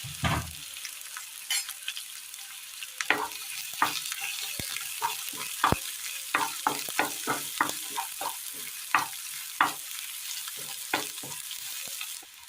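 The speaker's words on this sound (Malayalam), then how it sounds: "ചൂടായ എണ്ണയിലേക്ക് കടുക് ചെറിയുള്ളി അരിഞ്ഞത് വറ്റൽമുളക് രണ്ടെണ്ണം" Mustard seeds, chopped shallots and two dried red chillies fry in hot oil in a pan, with a steady sizzle broken by many sharp crackles and pops scattered irregularly throughout, fairly close and with no talking.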